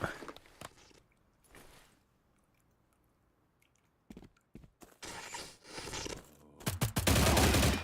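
Gunfire in the video game STALCRAFT comes in scattered bursts: a few early shots, a long quiet stretch, then clustered volleys that grow loud and dense toward the end.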